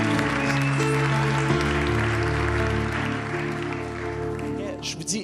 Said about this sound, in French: Comment est-ce qu'on peut leur donner une bonne main d'applaudissement